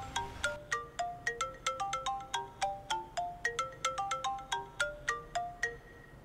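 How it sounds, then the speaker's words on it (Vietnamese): Phone ringtone plays a repeating melodic pattern of bright, chiming notes in a steady rhythm. It is fairly quiet and clear, with no talk over it. "Alo, tôi nghe chị Lan."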